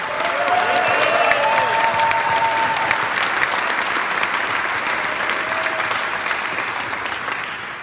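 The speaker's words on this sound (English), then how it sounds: "let's give them a big round of applause" An audience at a Harvard Business School PLD 21 speech breaks into a big round of applause, dense continuous clapping from a large crowd with a few whoops early on, gradually thinning and fading toward the end.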